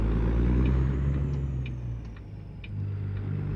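The engine of a Jasper W900 truck in American Truck Simulator drones steadily at a low pitch, dipping and then swelling as revs change, heard close and without speech.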